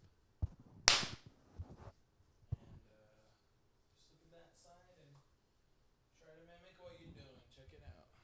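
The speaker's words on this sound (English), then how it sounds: "One more clap." A single sharp hand clap rings out close to the microphone, followed by a couple of smaller taps. Casual conversation among several people continues around it.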